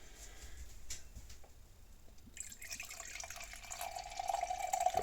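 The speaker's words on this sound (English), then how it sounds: "Got quite an aggressive pour." Courage 1914 imperial stout being poured from a bottle into a glass, a faint trickle and splash that builds into a steadier, fizzing stream.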